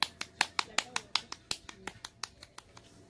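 Hands pat and clap dough into toqueres in a quick, even rhythm of about a dozen sharp, close slaps, with soft voices faintly underneath.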